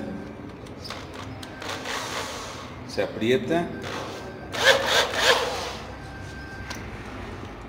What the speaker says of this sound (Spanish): Pues ahorita vamos a usar el taladro.